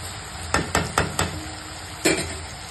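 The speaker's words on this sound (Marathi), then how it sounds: "तर आता हे चांगलं मिक्स करून घ्यायचं, चांगलं हलवून घ्यायचं" A spoon scrapes and knocks several times against a pan while black chickpea masala with cinnamon is stirred, sharp close clinks in a quick group followed by one more after a pause.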